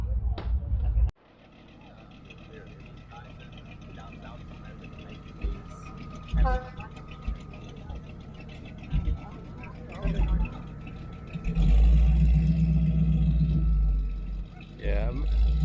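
Deep engine rumbles and revs from several large classic American cars and hot rods, including a Dodge Coronet, rise and fall at an outdoor car show, with one loud burst of throttle near the end, under scattered voices.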